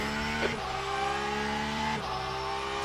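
GT race car in the Le Mans Ultimate sim accelerating hard, engine note climbing steadily then dropping at two upshifts before rising again, loud and close with no talk.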